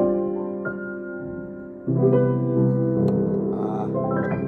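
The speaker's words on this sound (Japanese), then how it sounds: "ここにあります可愛いの赤いピアノ、グランド譜面台のね、KL32BG ですが、これはどんな音がするんでしょうかね。" A red Kawai KL32BG grand piano plays sustained chords and melody notes at close range, its rich, deep bass ringing with no voices present.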